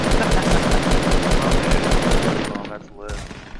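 Rapid automatic gunfire in a video game rattles steadily at close range for over two seconds, then breaks off into a few scattered single shots as the burst dies away.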